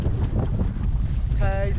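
Steady wind rushes past the microphone aboard a close-hauled sailboat in about 12 knots, with a full headsail out and a bit of chop; a faint whining tone rises near the end.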